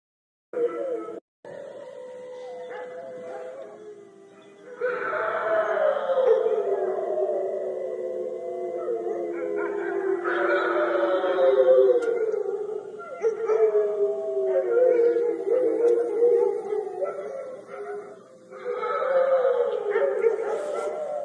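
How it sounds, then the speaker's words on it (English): Several dogs howl and yelp together in a small town at night, a sustained, wavering chorus of overlapping howls lasting throughout, with a brief pause early on before the howling swells again. "you can hear the dogs and then something in the background"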